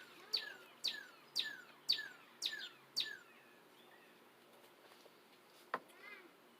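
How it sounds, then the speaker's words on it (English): A bird repeats a sharp, descending whistled call six times in an even rhythm, fairly close and clear, followed by a few fainter chirps. "Nice birds in the background."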